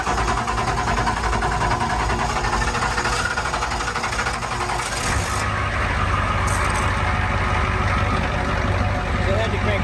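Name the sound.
Ford 7.3 IDI diesel engine starting and idling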